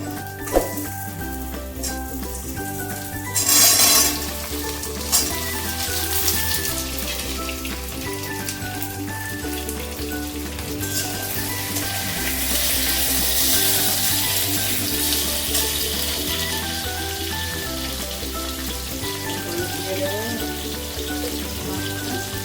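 Taro and potato frying in oil with onion and panch phoron for a Bengali fish curry, a loud, steady, close sizzle with a few clatters early on and no voices.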